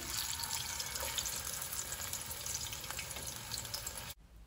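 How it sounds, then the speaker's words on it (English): Fish frying in hot oil in a pan for stew, a steady crackling sizzle that runs continuously at moderate level, then cuts off abruptly near the end. "we're going to start frying our fish, and I have my oil in here."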